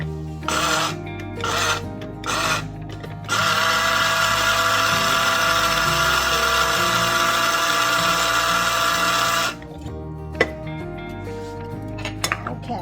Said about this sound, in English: Actually, grind it for a few more seconds.